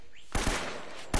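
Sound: gunfire in Uncharted: Drake's Fortune video game

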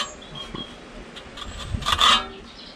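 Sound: steel trowel smoothing sand cement render

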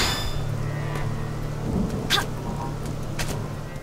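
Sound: thunderstorm in Xenoblade Chronicles X video game

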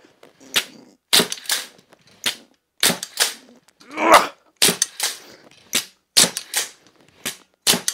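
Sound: Steambow Fenris magazine bow shooting 70 pounds rapidly

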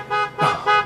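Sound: car horn honking

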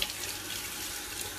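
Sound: tap water rinsing Kenwood JMP400 slow juicer part in sink

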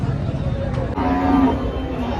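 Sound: cows mooing at a cattle market

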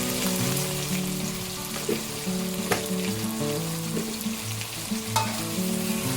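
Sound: stir-frying sausages in a pan

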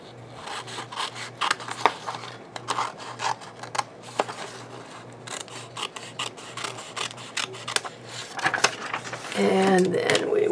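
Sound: cutting board for a book cover

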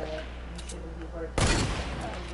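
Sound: gunfire in a sniper shooter video game

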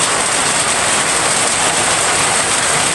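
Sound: heavy rain

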